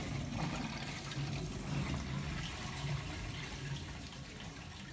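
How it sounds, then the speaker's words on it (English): Water rushes back through stainless steel house water filters as the valves reopen, giving a low, steady, faint surging hiss that eases slightly toward the end. "You will hear a surge as the water surges back into the house system."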